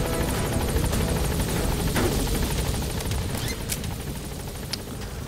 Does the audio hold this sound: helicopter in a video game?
yes